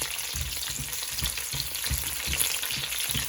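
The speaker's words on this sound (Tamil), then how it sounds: "இந்த பச்சை மிளகாய் அந்த எண்ணெயில் அப்படியே வதங்கி வர வேணும்." Green chillies fry in hot oil for a chilli thokku, a dense steady sizzle close by with soft rhythmic thumps of stirring and no talking.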